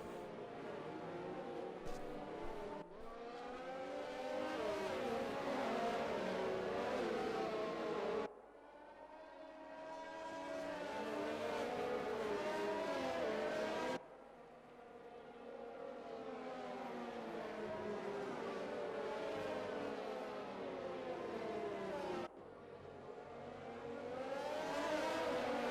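Race cars in an XRL X1 racing game at Austria accelerating after a green-flag restart, engines whining and rising in pitch through gear changes, with abrupt cuts between passes and a steady loud drone.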